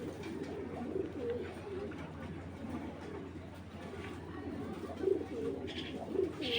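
A male checker racing pigeon coos softly in a few low, rounded calls over a dim background murmur.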